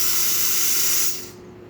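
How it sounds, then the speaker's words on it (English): Steam hisses steadily from the thermoblock of a tuned-up Jura Impressa C65 coffee machine, a loud, close, bright spray that tapers off near the end. "as you can see, the nice steady steam coming out through this, working really great"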